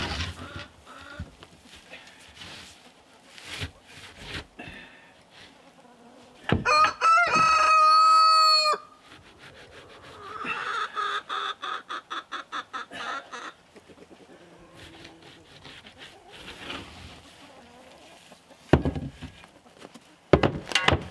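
Chickens at an off-grid homestead in Alaska cluck and fuss in a coop, and a rooster crows loudly once; wooden knocks and scratching can be heard in between.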